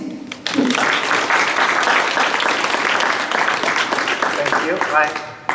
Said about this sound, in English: big applause for Ries